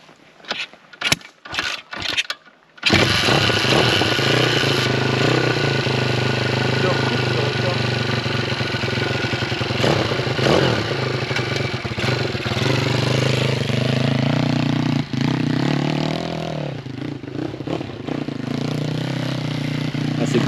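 A YCF 155 SM motorcycle engine coughs through a few short cranking attempts, then fires up and settles into a loud, steady, buzzing idle with occasional blips, close by and alone.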